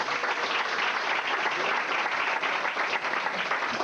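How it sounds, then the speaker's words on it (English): A small audience at Cafe Largo in Hollywood applauds the host, dense continuous clapping from the room, even and sustained throughout without a break. "so a little applause for our host"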